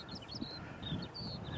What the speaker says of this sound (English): You can really hear the birds singing now.